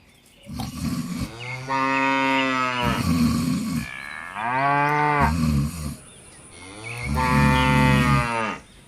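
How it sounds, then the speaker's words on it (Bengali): A cow moos three times in long, loud, drawn-out calls at close range, each low bellow rising and holding before breaking off, with short quiet gaps between them and no talking. "এ কি সুন্দরী এত ডাকছে কেন"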